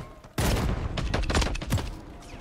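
Shotgun blasts in a Call of Duty Modern Warfare III multiplayer match, a loud sudden burst followed by several rapid close shots and clattering impacts packed into about two seconds, with no talk over them.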